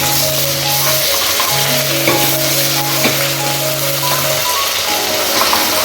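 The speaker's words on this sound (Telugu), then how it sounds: "ఈ పచ్చివాసన పోయేంత వరకు బాగా దీన్ని ఫ్రై చేయాలండి" Ginger garlic paste frying in a pan, a steady close sizzle with light stirring and scraping throughout, no voices.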